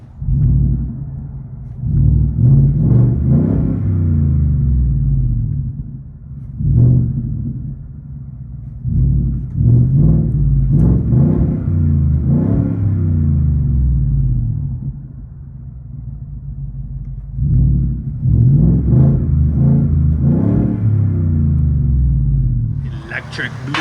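A 2018 Ford F-150 pickup's 5.0L Coyote V8 with a Dynomax Race Bullet exhaust hums and rumbles from inside the cab, rising and falling with revs, while someone talks over it throughout.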